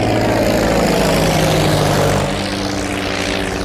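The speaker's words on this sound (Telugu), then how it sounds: "ఏదేమైనా ఫస్ట్ టైం ప్రైవేట్ ఫ్లైట్ ఎక్కినందుకు చాలా హ్యాపీగా ఉందిరా." A private propeller airplane drones in flight in a comedy film scene, a loud steady engine hum that holds constant and then eases slightly toward the end, with no talk over it.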